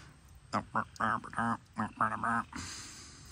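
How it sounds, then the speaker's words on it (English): A large bird gives a series of about eight loud, nasal quacks in quick bursts nearby, followed by a short hiss of background noise. "Oh, big old bird here."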